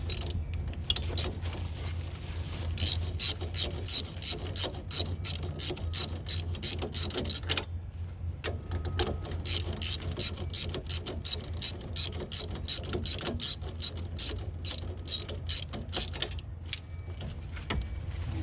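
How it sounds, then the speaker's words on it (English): A ratchet wrench clicks rapidly in repeated bursts, close and clear, while bolts on a car's strut assembly are loosened, with a brief pause midway. "next we're going to go ahead and remove these two bolts"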